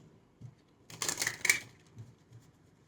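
Tarot cards being shuffled by hand, a brief burst of crisp riffling and flicking lasting about half a second, close and fairly quiet in an otherwise hushed room.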